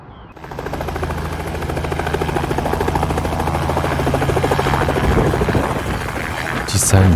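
A helicopter flying at dusk over Tokyo and Yokohama, its steady rotor thump and turbine whine loud and close throughout, with a brief higher burst near the end.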